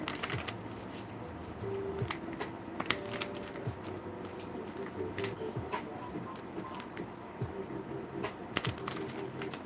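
Tarot cards being shuffled over and over, a steady run of crisp riffling clicks and soft slaps of the deck, close and fairly quiet, with no talking.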